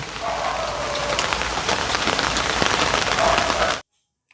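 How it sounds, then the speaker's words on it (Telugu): Heavy rain pours steadily onto a surface, a dense, loud hiss of drops that stops abruptly near the end. "ఇంత వర్షం ఈ సీజన్లో ఇదే ఫస్ట్ అండి"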